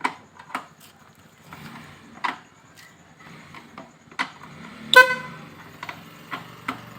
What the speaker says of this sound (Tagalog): Ang lakas ng busina ko